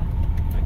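A car on a street in Ciudad Delgado, San Salvador, heard as a steady low engine rumble close by, continuous and fairly loud throughout the short moment.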